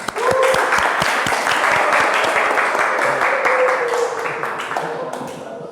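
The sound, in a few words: group applause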